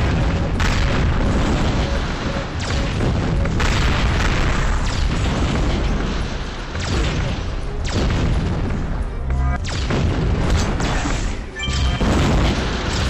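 Repeated heavy booms and crashing blasts from the Transformers: Dark of the Moon mobile video game, loud and continuous with several sharp bursts and brief lulls between them.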